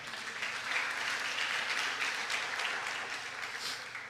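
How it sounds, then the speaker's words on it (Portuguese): A church congregation applauds steadily, a dense wash of many hands clapping at even loudness throughout, heard from within the room. "Aplauda ao Senhor Jesus."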